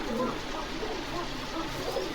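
Khaki pigeons cooing at a pigeon farm in Bogura, soft low murmuring coos repeating over a busy background, fairly faint.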